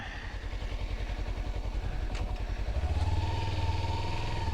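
Kawasaki Versys X300 motorcycle engine running steadily with a rapid pulsing putter, then a louder rising drone as it pulls away, no talking.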